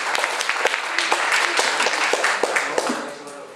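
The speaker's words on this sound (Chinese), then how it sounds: "掌声欢迎他。" An audience at a formal association event claps to welcome an honored guest, a dense burst of steady applause that fades near the end.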